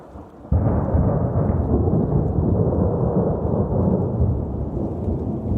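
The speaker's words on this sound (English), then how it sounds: "Thunderstorms boil up almost every afternoon during summer." Thunder rolls through a summer afternoon thunderstorm on a barren plateau above timberline in the Uinta mountains, a loud sustained rumble that begins abruptly and continues unbroken without any voices.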